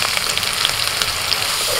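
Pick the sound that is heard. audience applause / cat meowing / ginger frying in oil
ginger frying in oil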